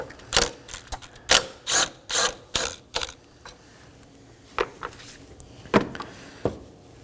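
Ratchet clicking in quick bursts while loosening the bolt on the ECU bracket of a 2015-2023 Nissan Maxima 3.5L V6, close and crisp, a run of rapid clicks and then a few separate clicks after a pause.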